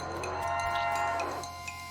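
A demonic cow from the video game West of Loathing gives a single long, drawn-out moo. The call sits close and loud, with no talk over it.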